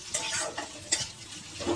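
Chopped onion sautés in a pan with a soft, faint sizzle, broken by a few quick stirring scrapes as the pieces are pushed around.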